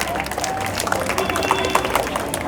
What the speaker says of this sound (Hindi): ताली बजाओ जी, कंजूसी कर रहे हो आप लोग।